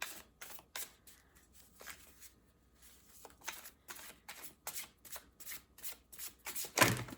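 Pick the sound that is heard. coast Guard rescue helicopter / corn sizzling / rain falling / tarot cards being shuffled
tarot cards being shuffled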